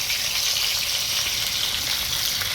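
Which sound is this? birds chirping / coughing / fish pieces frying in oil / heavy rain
fish pieces frying in oil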